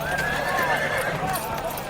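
A horse whinnies in a long, wavering cry over a noisy battlefield din, with voices in the background.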